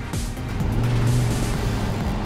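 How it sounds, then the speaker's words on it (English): The V10 engine of a Dodge Ram SRT-10 pickup rumbles low and steady as the truck drives through a cone course, rising slightly as it accelerates over a couple of seconds. "Oh, I love the sound of the V10."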